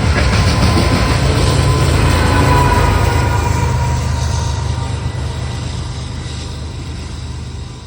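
A coal train led by locomotive 1776 rolls steadily through Ravenna, with a deep continuous engine rumble and rail noise that stays loud throughout and fades slightly toward the end.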